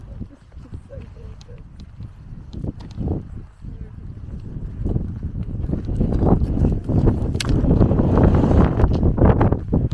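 Horses with foals walk past on a windy Irish outing, hooves clip-clopping in an uneven rhythm that grows louder and nearer, with wind buffeting the microphone and voices in the background.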